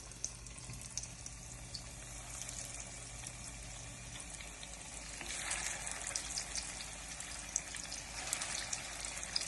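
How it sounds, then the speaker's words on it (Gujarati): Food frying in hot oil in a pan, with a steady close sizzle and crackle running throughout, swelling slightly louder partway through, no voices. "હવે આપણું તેલ થઈ ગયું છે ગરમ એટલે આપણે એમાં મૂકશું"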